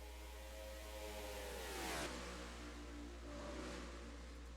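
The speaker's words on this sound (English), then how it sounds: "I thought I heard a car spinning." A race car revs and whines past at an IMRC All-Star Finale race, its engine pitch sweeping down as it goes by and then rising again, faint over a steady low hum, with no talk.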